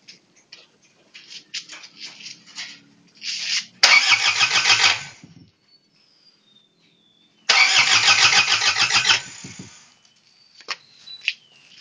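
A Mazda R2 engine cranks and catches, running in two loud sustained bursts of a few seconds each with quieter pauses and small clicks between, heard close by and alone.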